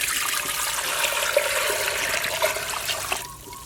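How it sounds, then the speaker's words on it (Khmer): Water pours steadily into a pot of cow bone soup with garlic and salt, a continuous rushing splash close by that thins out near the end, with no talking. "ចាក់ទឹកចូល"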